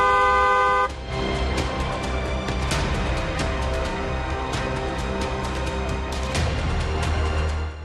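Car horns honk repeatedly amid steady street traffic noise, short blasts scattered throughout and fairly prominent.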